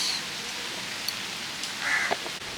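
Rain falls steadily outdoors near a pond in Bangladesh, an even wash of hiss, while a crow caws once or twice and a few other birds chirp briefly over it.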